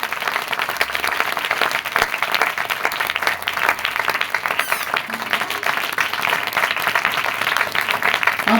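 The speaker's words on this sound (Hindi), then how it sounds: "जोरदार तालियां पाखरू के लिए।" A church congregation at a Sunday sermon bursts into loud, sustained applause, dense continuous clapping filling the room for several seconds with no talk over it.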